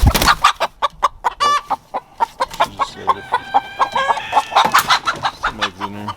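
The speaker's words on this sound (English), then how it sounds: "There's an Ayam Cemani hen." Chickens cluck close by, including an Ayam Cemani hen. The short clucks come in a rapid, uneven stream, with a few longer drawn-out calls mixed in.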